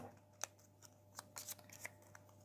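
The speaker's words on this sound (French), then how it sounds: "on va remélanger à nouveau tous ces tas" Playing cards from the board game Comme des rats being reshuffled into piles after trap cards are added: a few quiet, brief riffling flicks and soft shuffles spread over a hushed background.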